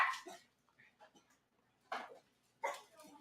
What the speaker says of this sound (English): A lot of dog action going on